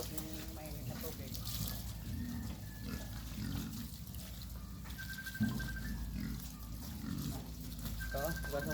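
A pig being slaughtered for a first birthday celebration in Sta. Fe, Zambales squeals in high, strained bursts over several seconds, with people talking around it throughout.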